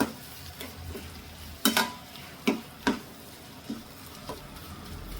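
Bitter gourd curry stirred in a pan with a spoon after turmeric goes in, giving several sharp clinks and scrapes over a soft sizzle, close and without voices.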